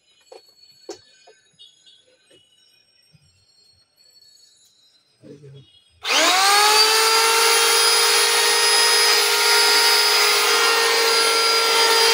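An electric wood planer switches on abruptly and runs at a steady, loud, high-pitched whine, with quiet handling noises and faint sounds before it starts.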